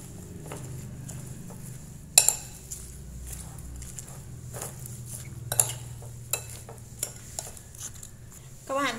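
Napa cabbage tossed with seasoning powder in a bowl, close by: soft, steady rustling and scraping, punctuated by a few sharp clinks of a utensil against the bowl.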